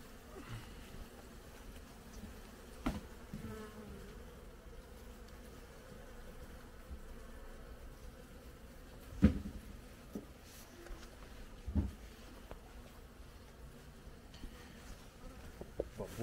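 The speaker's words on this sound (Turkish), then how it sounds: "Bu arılar çok hoşuma gidiyor benim" Pure Caucasian honey bees hum faintly and steadily at a hive in Macahel during winter preparation, with a few sharp knocks and clicks standing out from the soft buzz.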